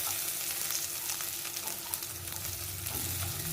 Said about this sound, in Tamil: எல்லாத்தையும் போட்டு நல்லா வதக்கி எடுத்துக்கலாம்.